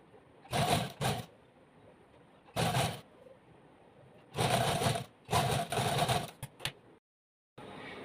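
A sewing machine stitches a half-inch folded cloth edge for a pillow cover in several loud, close bursts of rapid whirring, separated by short pauses.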